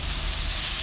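Steady, loud sizzling hiss of chicken frying in hot oil in a pan, close up and continuous with no voices.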